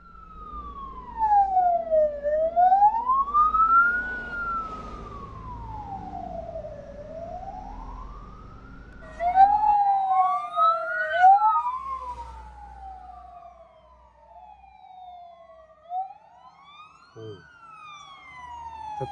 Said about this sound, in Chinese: 消防车来了。